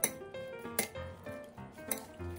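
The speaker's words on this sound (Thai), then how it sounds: "แล้วก็คนส่วนผสมให้เข้ากันดีนะครับ" Cockle salad being stirred with sliced lemongrass and shallots, with close, light clinks and scrapes of utensil against bowl coming in an irregular rhythm, with no talking.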